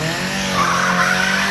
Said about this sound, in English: Let's see if we get a little tire smoking first.